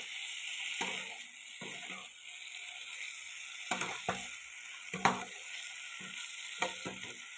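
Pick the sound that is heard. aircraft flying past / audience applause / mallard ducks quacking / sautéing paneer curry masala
sautéing paneer curry masala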